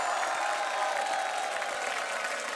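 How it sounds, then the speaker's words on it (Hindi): A studio audience on a Hindi comedy talk show applauds a celebrity guest's entrance, a steady dense wash of clapping and crowd noise throughout, with a faint tonal line under it. "तो इनके लिए तालियां हो जाएं भरपूर"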